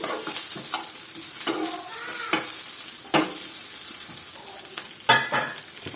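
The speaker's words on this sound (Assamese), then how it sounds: "এতিয়া এইখিনি ভাজি থাকিম।" Carrots and other vegetables sizzle in a hot pan, broken by repeated metal scrapes and clacks of stirring at an uneven pace, close and clear.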